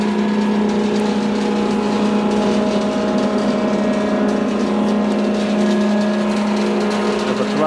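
A Roundo R-4 hydraulic angle roll, sized for 3-1/2 x 3-1/2 x 3/8 angle, runs on its push-button controls with a loud, steady mechanical hum and a strong low tone that holds without a break, close by and without voices.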